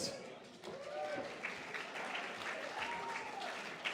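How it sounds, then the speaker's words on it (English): An awards-night crowd at the First Nations Media Awards gives Belle White a soft, steady wash of applause. It sounds faint and distant and runs under ongoing talk and a hum in the room. "one more big round of applause for Belle White, ladies and gentlemen"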